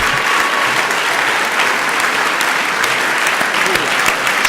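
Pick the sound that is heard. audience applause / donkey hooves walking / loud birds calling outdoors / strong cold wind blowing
audience applause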